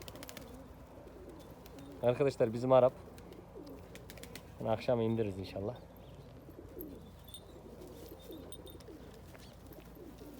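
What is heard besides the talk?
birds on the ground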